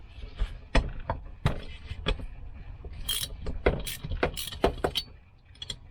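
Metallic clicks and clinks from a spanner or ratchet undoing 10mm cylinder head bolts on a Mobylette / Raleigh AV7 moped engine during a refurbishment, with irregular close taps and rattles and no talk.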